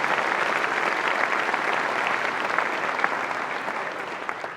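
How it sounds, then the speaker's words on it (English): An audience in Hancher Auditorium claps at a medical school white coat ceremony, a broad, even wash of applause that holds steady and then begins to taper near the end. "Can we have a little applause here for them?"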